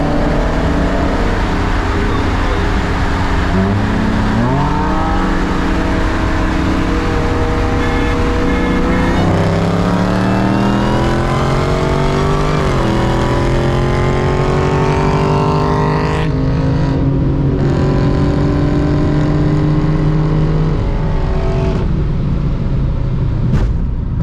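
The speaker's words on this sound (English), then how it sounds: "it's me and my full bolt-on M3 running 93 octane versus a Chrysler 300 that's a Redeye Swapped" A full bolt-on BMW F80 M3 on 93 octane races a Redeye-swapped Chrysler 300, both engines roaring loud and close as they climb through the gears with rising pitch sweeps and shift breaks.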